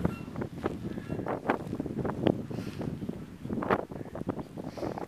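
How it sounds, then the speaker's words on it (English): Gusty wind buffets a microphone outdoors, a steady low rumble with irregular bursts and flutters rising and falling across the whole stretch, close and moderately loud, with no talking. "I'm sure that wind is really bugging you"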